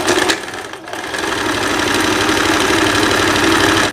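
A Singer sewing machine stitches the side seams of a blouse in thin fabric, running steadily and close with a dense, continuous mechanical whir after a brief stop near the start.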